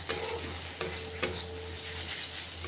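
A pointed gourd, potato and prawn curry with spices fries in a pan, a soft steady sizzle broken by three distinct clanks of a spoon stirring against the metal.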